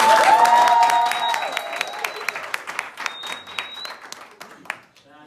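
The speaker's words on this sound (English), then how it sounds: "So please give her the warmest round of applause." Audience applause at an award ceremony for top learners, a dense burst of clapping and some cheering that thins into scattered claps before fading out, with a voice heard over the start.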